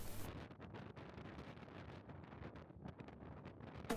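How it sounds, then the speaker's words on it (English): Wind gusts across the open deck of the MSC Splendida cruise ship in rainy weather, a steady rough roar with buffeting against the microphone, no voices. "Very windy."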